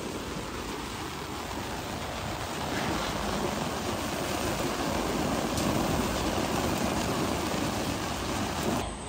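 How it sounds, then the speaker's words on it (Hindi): Peanut thresher machine running on a farm, a loud, steady broadband roar and rattle that swells slightly midway and continues without pause. "भगत ऊपर से थ्रेसर में डाल रहा है मूंगफली"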